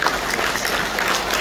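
Brief burst of dense crowd clapping at a community celebration in Dubai, loud and continuous for a second and a half with no voices.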